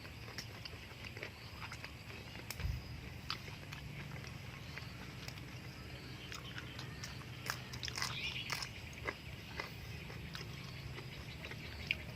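Close crunchy chewing of crisp pesticide-free beans eaten with catfish larb and fresh vegetables, steady crackling bites and mouth noises over faint background, no talking.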